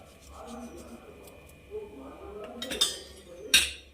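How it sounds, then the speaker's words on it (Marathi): Chhena for gulab jamun being mixed by hand in a bowl with powdered sugar; a soft, continuous rub and scrape with a few sharp clinks of utensil on dish near the end, under a low talking voice. "छानाला असं मिक्स करून घ्यायचं आहे"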